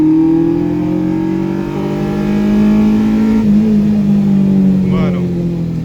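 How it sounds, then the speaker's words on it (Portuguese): A VW Passat fitted with individual throttle bodies and eight fuel injectors revs loudly up close, its engine note climbing and dipping in steady sweeps, with no talk over it. "Deixa eu mostrar pra vocês um pouco como é que é a aceleração"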